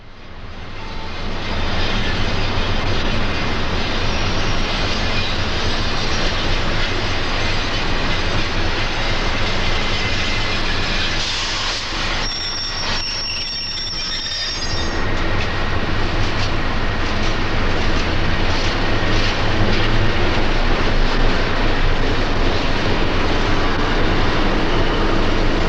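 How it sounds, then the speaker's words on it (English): A South Shore interurban electric train rumbles and hums at a passenger stop, a loud, continuous roar of motors and wheels that eases briefly, then swells again as it moves off. "A South Shore train picks up passengers before heading south and east."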